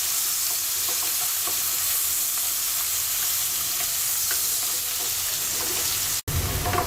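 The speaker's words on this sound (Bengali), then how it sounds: "পেঁয়াজটাকে হালকা ভেজে নেবো" Onions sizzling and crackling in a pan, a steady close frying hiss with light stirring clicks, ending in a brief cut.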